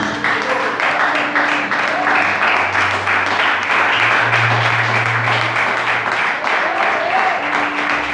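A church congregation claps continuously during worship, a dense, steady patter filling the room beneath sustained music and voices.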